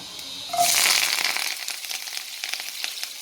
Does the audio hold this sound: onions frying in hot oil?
yes